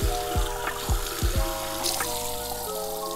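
Running water from a tap splashing and being scooped as a face is rinsed clean, with several quick splashes near the start over a steady close pour and trickle.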